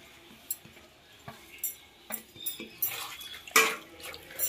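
A spoon stirs a sizzled tempering of dried red chillies into a stone-ground ridge gourd and raw tomato chutney, giving a few light scraping clinks against the bowl in an irregular rhythm, close and fairly quiet.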